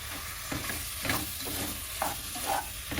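Beef stir-fried in a pan with bay leaves and bruised galangal, a dense close sizzle punctuated by several rhythmic spatula stirs and scrapes.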